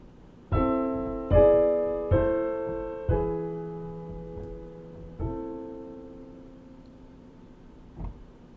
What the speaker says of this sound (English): So let's hear the harmonization of this bass line.